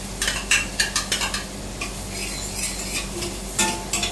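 Onion and capsicum frying in a pan for white sauce pasta, a soft sizzle under repeated clicking and scraping of a spoon stirring against the pan, close and steady.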